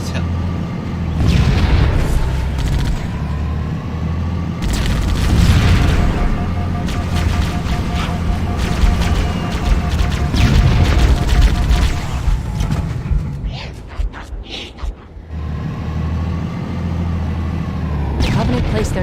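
Machine gun fire in the Halo shooter, sustained bursts over heavy explosions and rumbling booms, loud and continuous throughout with some talking mixed in.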